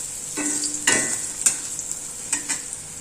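Dried vathal berries fry in sesame oil with a steady close sizzle, broken by a few sharp scrapes of a spoon stirring the pan; no voices.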